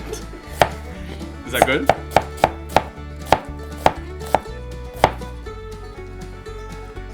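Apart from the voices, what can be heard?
knife dicing an onion on a board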